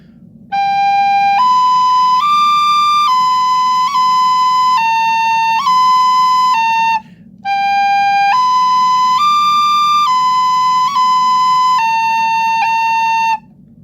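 A pure-toned recorder plays a simple tune of long held notes, pausing briefly midway before repeating the line, up close and alone.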